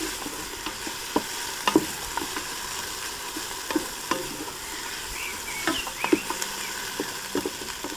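Herbs and spices sizzle gently as they fry in a Ninja Foodi, with soft scraping and tapping from a quick stir breaking through the steady crackle.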